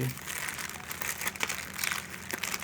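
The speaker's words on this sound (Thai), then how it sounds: "ถุงพลาสติก" A green plastic bag for drink cups crinkling and rustling up close in a Thai household, irregular bursts of crackling and rubbing with faint voices underneath.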